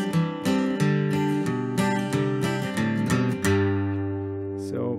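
A guitar in DADGAD tuning plays a plucked bass line stepping down a scale, individual notes clear and sustained, ending on a low ringing note; no talking.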